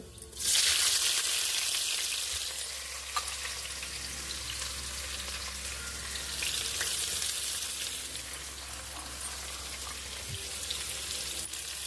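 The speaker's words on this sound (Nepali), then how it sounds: "प्याज फ्राई भइसक्यो।" Onion frying in hot oil after cumin seeds for a bottle-gourd chana dal, a loud, continuous close sizzle that surges at the start and stays even, with a few faint utensil clicks; no talking.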